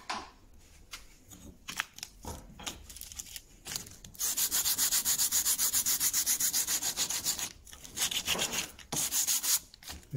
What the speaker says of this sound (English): Just go over all of that with sandpaper and that's done.